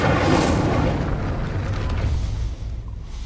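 Incendio fire spell cast in Hogwarts Legacy, a deep whooshing burst of flame that swells loud at the start and then rumbles and fades over a few seconds.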